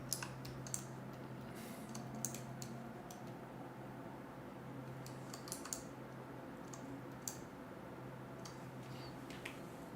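Computer keyboard typing clicks in bursts, close and fairly quiet, with sharp key taps scattered over a low steady background hum.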